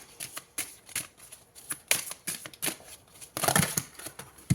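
Tarot cards are shuffled in repeated quick riffling bursts, crisp and close, with slapping flicks and a denser flurry near the end as a card is drawn.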